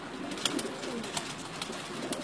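High-flying pigeons coo softly in a short, steady outdoor run of murmuring calls with a few brief sharper accents, fairly faint and without talk.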